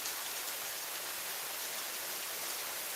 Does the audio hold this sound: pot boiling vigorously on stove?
no